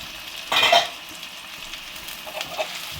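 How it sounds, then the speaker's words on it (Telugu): Shredded cabbage, carrot and other vegetables for noodles fry in a pan, a low sizzle with a brief louder burst of stirring and a few faint scrapes of a spatula later on, no speech. "ఇవన్నీ బాగా వేగాలి."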